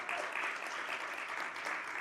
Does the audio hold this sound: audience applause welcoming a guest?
yes